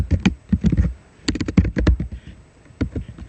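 Computer keyboard keys clatter in quick, irregular bursts of close, crisp taps, pausing briefly before another run of typing, then a few final strokes.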